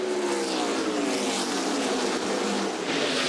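NASCAR stock cars roar as they accelerate together on a restart at Richmond Raceway in 1999, a dense loud engine drone with rising tones from several cars at once.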